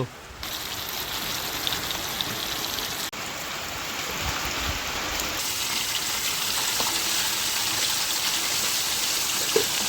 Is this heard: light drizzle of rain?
yes